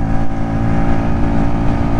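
Lexmoto RSS Street 125cc motorcycle engine pulling steadily in fifth gear at lowish revs, a continuous loud droning hum with no breaks across the whole stretch.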